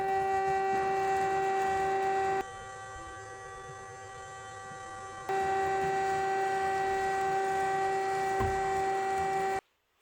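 Electric meat grinder pushing seasoned venison through a 4.5 mm plate, a steady loud motor whine that drops to a lower, quieter tone for a few seconds, returns at full pitch, then cuts off abruptly.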